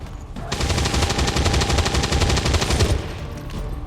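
Rapid automatic gunfire from the video game XCOM 2 rattles in one loud, continuous burst of evenly spaced shots lasting about two and a half seconds, with no voices.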